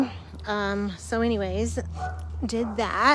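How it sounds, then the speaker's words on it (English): A dog barks and yips repeatedly with whining tones, fairly close, mixed in with someone talking. "Sorry about the barking dog."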